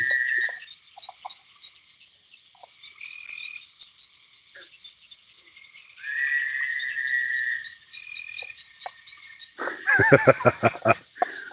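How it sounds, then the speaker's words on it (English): Tree frogs and crickets call at night in sustained trills and chirps, some long and steady, others short, followed by a loud burst of rapid croaking near the end, with no talk. "it's the crickets and the tree frogs"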